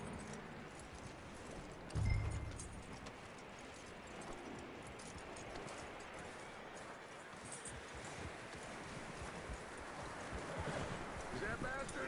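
Horse hooves clip-clop in a PS4 video game, a soft continuous patter of steps mixed into a dense, busy game soundscape with a brief thump, while people talk over it.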